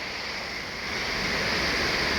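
Loud, steady rush of river water tumbling over a weir beside a salmon run on the Grand Rapids, a dense continuous roar filling the space close by with no voices.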